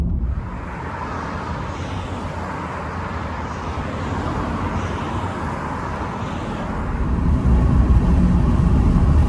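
A car drives along the busy A25 Epsom Road near West Clandon; steady close road and engine roar with tyre rumble fills the cabin and swells louder toward the end, with no talking.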